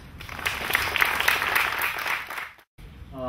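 Applause from an audience at a hospital helipad dedication on Maui, a steady broadband patter of many hands lasting a few seconds, then a brief gap before faint background sound resumes.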